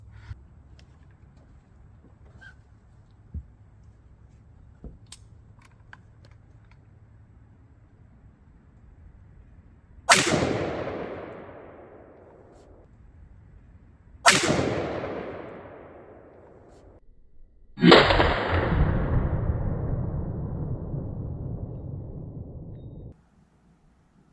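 Centerfire rifle shots, 5.56, 7.62x39, .270 Winchester and .450 Bushmaster, fired at about 15 yards: three loud, sharp cracks spaced several seconds apart, each with a decaying outdoor echo tail, the last the heaviest.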